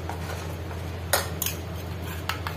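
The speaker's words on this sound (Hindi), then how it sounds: "इसको हम कंटिन्यू इस तरह से चलाते जाएंगे" A metal spoon stirs milk in a pot on a low-to-medium gas flame, making a few clinks against the sides over a steady low hum.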